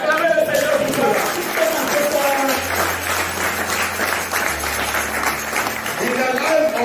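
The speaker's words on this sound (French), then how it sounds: "Put your hands together for the Lord" A church congregation claps and cheers for several seconds, a broad, dense wash of applause with a steady low musical drone underneath and voices mixed in.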